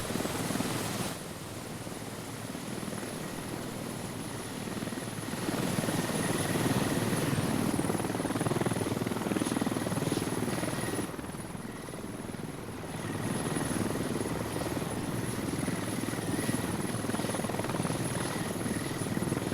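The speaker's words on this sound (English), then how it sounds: "follow the heli down to the drop" A helicopter flies overhead in the Squad video game, a steady close rotor drone and engine whine holding throughout with slight swells in loudness.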